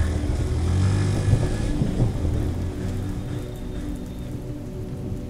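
Steady rain falls in a soft continuous patter with scattered drips, a quiet ambient backdrop heard alone without voices, used as a sound effect in a rural Bengali ghost story.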